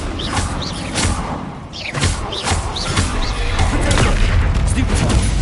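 Bombarda blasting-spell explosions in the Hogwarts Legacy video game: a rapid string of loud booming blasts with crackling impacts, close and forceful, while a voice speaks over the fighting.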